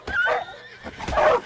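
A horse in Red Dead Redemption II lets out two quick, close whinnies back to back, brief and fairly loud, with no speech over them.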